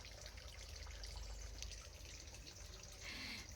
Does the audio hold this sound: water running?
yes